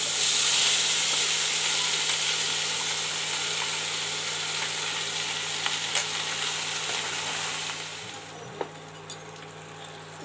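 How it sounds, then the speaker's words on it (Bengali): Spice paste with dried red chilli and whole cumin sizzling in hot oil in a pan, a steady loud hiss that eases off toward the end, broken by a few sharp spatters and stirring clinks. "আমি যে পেস্টটা বানিয়ে রেখেছিলাম ওটা এখন তেলের উপরে দিয়ে দেবো"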